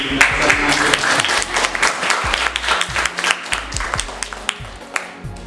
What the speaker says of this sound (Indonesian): Tepuk tangan buat presiden.